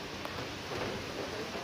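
Rain falls steadily in an even, continuous hiss, heard alone at a moderate distance.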